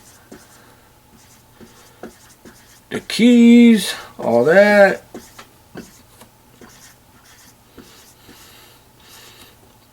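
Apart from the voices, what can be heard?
pen drawing a laptop on paper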